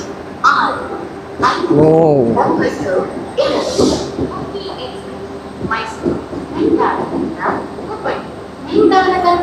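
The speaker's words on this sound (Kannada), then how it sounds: "ಮೂವ್ ಆಗ್ತಾ ಇದೆ ನೋಡಿ ಈಗ ಒಂದೇ ಭಾರತ್ ಟ್ರೈನ್" A moving Vande Bharat train gives off a continuous rumble and clatter beneath someone talking almost throughout.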